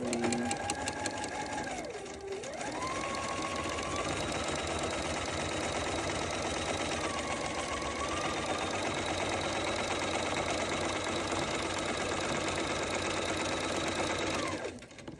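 A sewing machine stitches quilting lines across a fabric bag, its motor running in a steady, close, continuous whir with a brief slowdown and pitch dip near the start before settling into an even pace.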